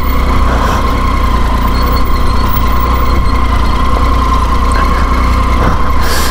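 A heavy motorbike engine drones loudly and steadily as it strains over sand and rocks, holding a constant rumbling tone with a whining overtone and no talk.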